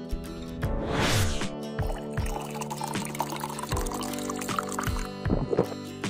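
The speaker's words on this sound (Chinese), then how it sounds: "或者倒水的声音都有" Water being poured as a stock sound effect, a gurgling splashing pour rising loudly near the start, then softer bubbling and a few drips, over faint background music.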